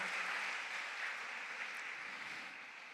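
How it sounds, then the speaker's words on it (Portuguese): Church congregation applauding during a sermon, a faint, even wash of clapping that slowly tapers off, with no talk. "Você pode aplaudir o Senhor Jesus"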